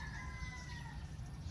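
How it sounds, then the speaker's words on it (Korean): A rooster crows in the distance in the Philippines, faint and drawn out over a steady low rumble of engine noise. "멀리서 닭 울음소리가 굉장히 정겹게 느껴져요."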